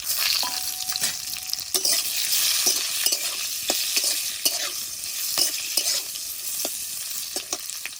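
Cubed onion fries in oil with black cumin, fennel and cumin, a bright sustained sizzle punctuated by frequent sharp spatula taps and scrapes against the pan.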